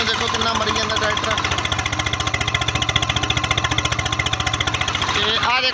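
A Swaraj 735 tractor engine running roughly and losing power at low revs, a loud close diesel knocking in a fast steady chug without letup, with someone talking over it.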